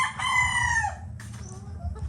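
A fighting rooster crows once, loud and close, its call ending in a falling note, followed by a few faint clucks.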